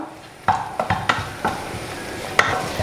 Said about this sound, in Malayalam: ഇനി ഇത് നന്നായിട്ടൊന്ന് മിക്സ് ചെയ്ത് കൊടുക്കുക.